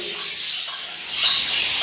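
A female rosella parrot calls with bright, high chirping notes over steady hiss, growing louder and busier in the second half.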